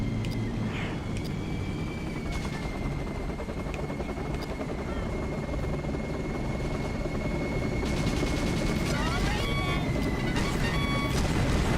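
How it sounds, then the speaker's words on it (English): A transport helicopter in the video game Battalion Wars whirs in a continuous, dense rotor drone, with a thin steady whine above it and brief electronic beeps near the end. "he said transport copter"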